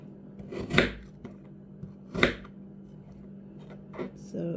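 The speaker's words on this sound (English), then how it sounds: "you do not need anything special to cut up or core your apples" A kitchen knife cuts up apples on a board, producing a few distinct crisp chopping strokes with quiet pauses between them, close and moderately loud against low background hum.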